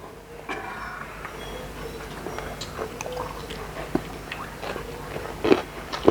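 A big mouthful of rice eaten alongside spicy dishes like crispy pork cracklings with fried garlic and lime pork, with soft wet chewing and small smacks close to the mic, ending in a few sharper bites and no talk.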